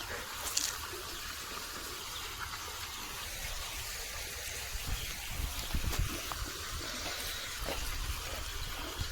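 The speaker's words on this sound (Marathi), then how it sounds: "मेन रिटर्न वालने पाणी येत आहे." Water gushes from the main return valve of a motor-driven pump in a sugarcane field, a steady broadband rush that runs throughout at moderate level, with no voices.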